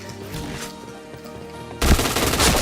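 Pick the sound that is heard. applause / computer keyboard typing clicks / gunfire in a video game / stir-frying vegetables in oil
gunfire in a video game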